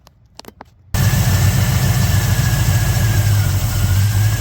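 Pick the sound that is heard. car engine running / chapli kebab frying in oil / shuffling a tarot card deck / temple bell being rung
car engine running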